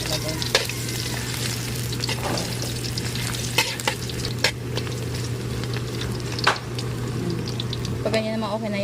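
Ginger (luya) frying in hot oil in a pan crackles with a continuous sizzle, punctuated by sharp stirring knocks and clatter, while a low steady hum runs underneath.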